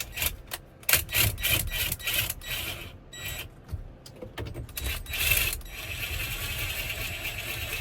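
A socket tool tightens a bolt on a big rig truck, giving rapid ratcheting clicks and scraping metal bursts up close, followed by a steadier grinding rasp toward the end.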